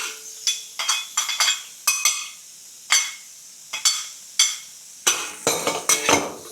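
Shrimp, char siu and carrot stir-fried in a wok, with a steady series of sharp metal spatula clanks and scrapes against the pan over faint sizzling, close and fairly loud, no talking.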